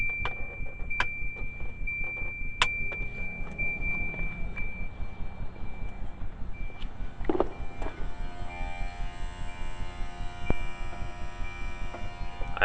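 A newly installed Volvo fuel pump is tested while running, giving a steady low hum and faint whine with a few sharp clicks and a brief clunk partway through, with no talk.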